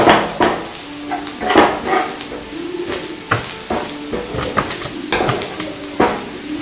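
Oil sizzles in a pan while a utensil stirs and scrapes against it, with irregular clinks and soft crackles from close by.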